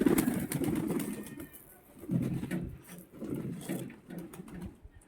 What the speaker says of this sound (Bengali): একবার দেখো কত পায়রা আছে।